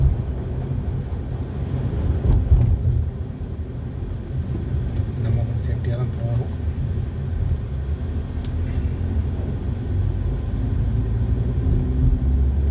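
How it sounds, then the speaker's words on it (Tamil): Heavy road traffic with lorries rumbles on the new Ukkadam bridge in Coimbatore, a steady low engine drone and passing vehicles, with someone talking over it throughout. "லாரிக்காரங்கெல்லாம் பாருங்கள் என்னை பற்றி கவலைப்படாமல் வருவாங்க"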